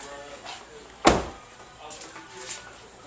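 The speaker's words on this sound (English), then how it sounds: "You're going to open the trunk here." A single sharp clunk of a Toyota's trunk latch releasing, loud and close, stands out against a low background hum, with faint rustling afterward.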